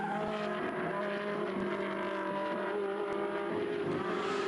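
A Ferrari Challenge race car screams around the Mugello circuit with a sustained high-revving engine note, steady and loud, with slight shifts in pitch as it drives on.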